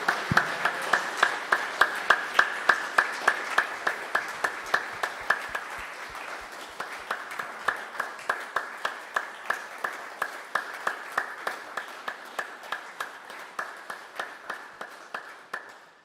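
An audience at an acoustic concert claps in steady, fairly even beats that carry on throughout, with a constant tone underneath and faint voices in the room. The claps are moderately close and slowly fade toward the end.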